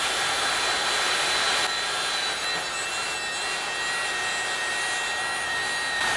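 A hot-air plastic welder heats a car bumper together with a plastic welding rod. It gives a steady, loud blowing hiss that runs unbroken throughout.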